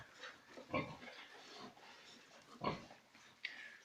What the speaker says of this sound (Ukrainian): в малому віці поросятко лежить, а це вже стало і вже гризе йому хвоста